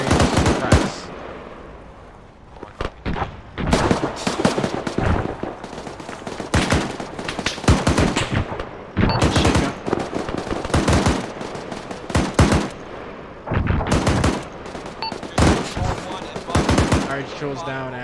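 Simulated automatic gunfire during Arma 3 platoon milsim training, with dense sustained bursts of suppressing fire crackling one after another, loud and close, while voices talk over the shooting.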